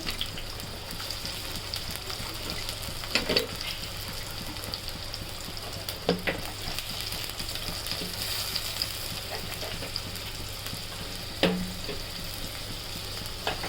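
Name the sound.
chopped onions sizzling in a pan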